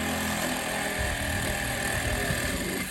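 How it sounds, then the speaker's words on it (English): A Sawzall reciprocating saw cuts through roofing during a mobile home roof replacement, giving a loud, steady, harsh buzzing rattle that runs for the whole stretch. "Sawzall."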